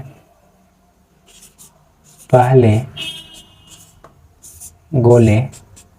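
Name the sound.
chalk or pen writing on a board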